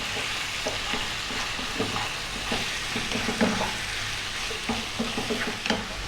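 Chicken breast seasoned with salt and black pepper stir-fried over high heat in a wok, a dense continuous sizzle with repeated scraping stirs, close and loud, no talking.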